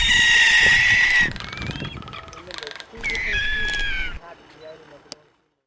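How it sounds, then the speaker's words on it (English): Frigate bird calls: a run of loud, harsh, tonal squawks up close, then several shorter wavering cries with brief gaps, fading into quiet by the end. "Frigate bird."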